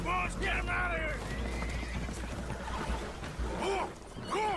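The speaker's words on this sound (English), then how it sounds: "Horses are spooked, and we're taking on water." Spooked horses whinny and neigh in short bursts aboard a boat taking on water, in the Red Dead Redemption 2 video game, over a constant low rumble with voices talking underneath.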